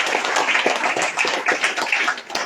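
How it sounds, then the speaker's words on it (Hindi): An audience at a Navratri katha gathering at Gyan Deepak Mandir, Buca Savusa, gives a dense, steady round of applause throughout, with many hands clapping and no speech on top. "शानदार ताली की गड़गड़ाहट से उनको धन्यवाद दें"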